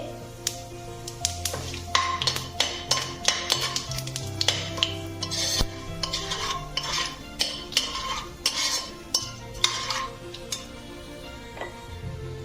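Panch phoron spices tempering in hot oil in a pan for a thin rohu fish curry, with a constant soft sizzle and a metal spoon clinking and scraping in quick, uneven taps throughout.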